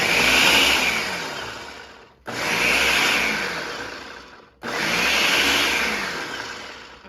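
A food processor pulses pie crust ingredients in three separate bursts, each a whirring motor roar that starts abruptly, fades slightly, then cuts off, with no talking.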